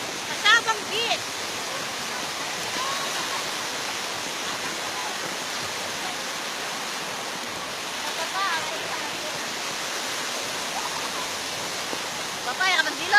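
Sea surf at Sabang beach in Baler rushes as a constant broad wash of breaking waves, fairly faint, with brief voices now and then.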